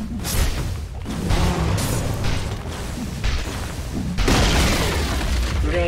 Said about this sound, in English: Radiant's bottom tower has fallen.